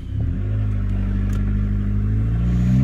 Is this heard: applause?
no